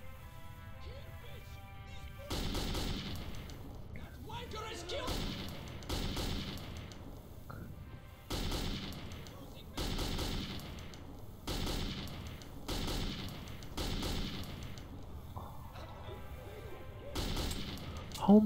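Repeated bursts of gunfire in the Metro 2033 video game, clustered shots recurring every second or two amid game sound, with a player talking and exclaiming over much of it.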